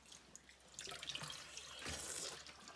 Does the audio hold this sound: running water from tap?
yes